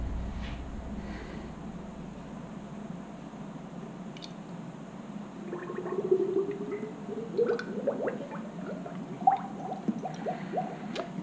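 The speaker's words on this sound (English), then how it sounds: "We're just gonna go ahead and pour oil in." Fork oil poured into a Suzuki DR-Z400 motorcycle fork, a faint steady trickle and gurgle, then a series of small wet glugs and drips close by.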